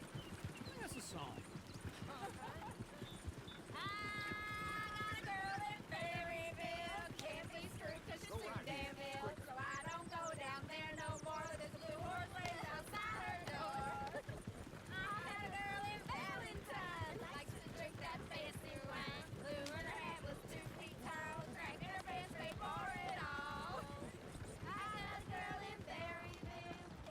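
Horse hooves clip-clop at a steady trot in Red Dead Redemption 2, beneath voices that keep talking over them, all heard quietly.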